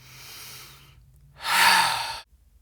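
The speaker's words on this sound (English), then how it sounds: "Take a deep breath in" A single deep, loud inhale taken close up during a no-equipment mat workout, rushing in after a softer breath and a short pause, then cutting off abruptly.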